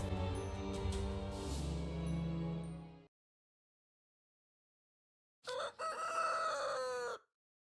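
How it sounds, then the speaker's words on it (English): A rooster crows loudly twice in the video game Twisted Wonderland, the first a long crow lasting about three seconds, then a short silence, then a second, shorter crow. "are we being woken up by a rooster?"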